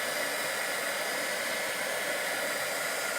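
A heat embossing gun drying saturated watercolor paper blows with a constant loud, airy roar like a hair dryer, a steady hiss without change throughout.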